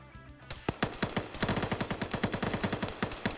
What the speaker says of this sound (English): Bates now shooting up at Cullis' position and gets the headshot.